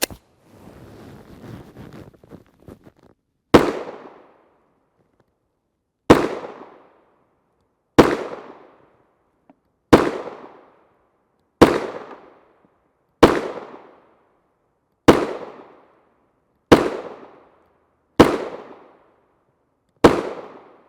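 A Glock 19 Gen 4 MOS pistol fires 9x19mm NATO 124-grain FMJ rounds: ten sharp, loud shots spaced evenly about a second and a half apart, each ringing out briefly after some faint shuffling handling noise.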